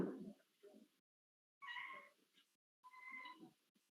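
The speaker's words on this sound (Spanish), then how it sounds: "¿Qué fue el gato?" A cat gives two clear, drawn-out meows, each a separate call with a pause between, close and fairly loud, after some faint muffled sounds at the start.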